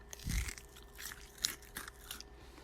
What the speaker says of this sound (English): And their coating is nice. It is spicy, and it is kind of firm and crunchy.